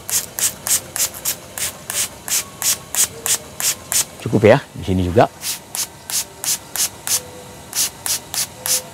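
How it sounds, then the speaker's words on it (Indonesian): Rhythmic pumps of a hand sprayer misting liquid onto grape flowers, a steady series of hissing spurts heard close up, with a person talking briefly in the middle. "Saya semprot aja sampai basah."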